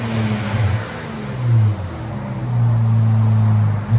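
Up close, a 2017 Infiniti Q50's 3.0L turbo V6 breathes through a Borla Pro-XS exhaust without resonators or muffler, revving in deep, throaty surges that rise, dip and swell again.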